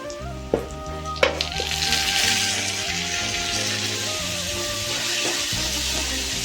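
Chopped tomatoes and okra fry in a hot pan for a South Indian vendakkai kara kulambu, a steady close sizzle that swells after a couple of sharp knocks of a spoon against the pan, with no talking.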